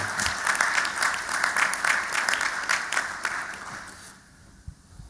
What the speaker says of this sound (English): we would like to have a big round of applause for Summit, Soma, and Retail Jeweler team to make it happen in Dubai